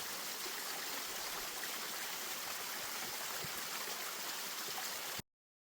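Creek water rushing near a hiking trail over a cliff, a steady broadband flow heard close and continuous before cutting off abruptly.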